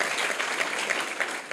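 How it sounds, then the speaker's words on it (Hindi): Brief burst of audience applause at a private school in Varanasi, India, fairly light clapping with a few sharper claps standing out, no talking over it. "इनके लिए आप लोग तालियां बजाइए।"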